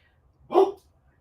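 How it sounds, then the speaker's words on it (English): An old dog gives one short, sharp bark indoors, close by and fairly loud, with quiet all around it. "He's barking at nothing."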